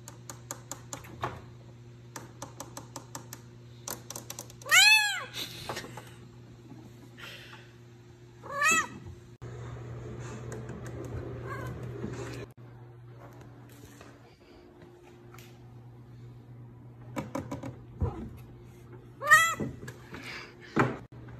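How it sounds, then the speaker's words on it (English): A deaf cat gives several loud, drawn-out meows spaced across a quiet room with a steady electrical hum, interspersed with soft tapping and rustling noises. "How to wake up a deaf cat."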